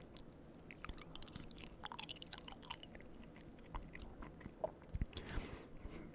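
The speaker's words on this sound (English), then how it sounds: "pretty easy to chew through." Noodles eaten with a fork are chewed close to the mic in an intimate eating setting, soft wet chewing and bites repeating steadily, quiet and without talk.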